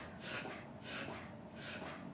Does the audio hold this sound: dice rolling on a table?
no